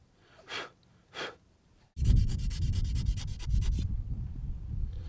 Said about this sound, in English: I'm taking this metal file and I'm inserting it into the nock, and I'm using the shaft itself to do all the work